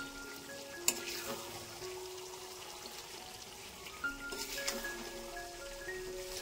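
Mutton stirred as it fries in a pot, a soft, fairly quiet sizzle with occasional scrapes and clinks of a spoon, and faint tonal background hum.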